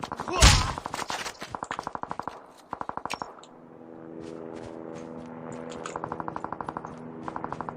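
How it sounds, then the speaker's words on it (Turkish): Rapid bursts of automatic gunfire in the video game Call of Duty Mobile crackle in repeated volleys, with a louder shot near the start and a droning engine hum underneath. "Ya bir yerlerde gene silah sesi var."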